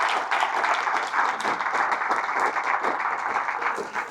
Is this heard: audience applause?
yes